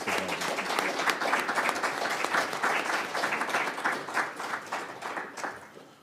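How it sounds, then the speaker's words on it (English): An audience applauds at the close of a panel discussion on spices and sustainability in business and agriculture, a steady wash of many hands clapping that holds for several seconds and then tapers off. "Can we just give them a round of applause?"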